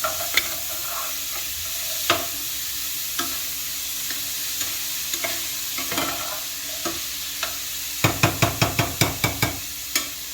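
Cheeseburger macaroni ingredients sizzle steadily in a hot pan, with occasional clinks of a utensil and a quick run of sharp taps near the end.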